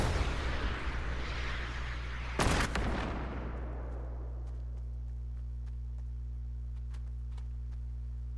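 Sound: gunfire in the Fortnite video game

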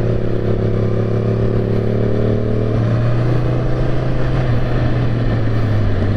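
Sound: motorcycle exhaust while riding

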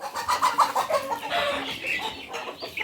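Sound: market-bought chicken clucking

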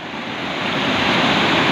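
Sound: floodwater flowing strongly in a village stream

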